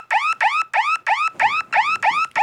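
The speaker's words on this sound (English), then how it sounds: "Kind of sounds like a car alarm." A simulated alarm resembling a car alarm sounds in eight rapid, evenly spaced rising electronic chirps, loud and close with no talk over it.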